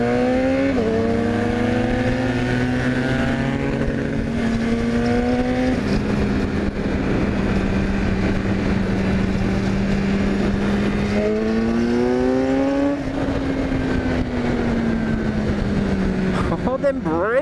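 A 2018 BMW S1000R motorcycle engine pulls hard in first gear, its loud rising whine climbing through the revs, dropping on shifts or lifts and surging again, heard up close over steady wind noise.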